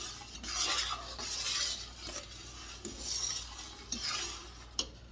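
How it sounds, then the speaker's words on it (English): Strawberry rhubarb jam made from frozen fruit is stirred in a hot pot, a spoon scraping and swishing through the thick mixture in slow repeated strokes with faint clinks against the metal, close and steady, with no talking. "So let it just pick up some more heat and just keep stirring it"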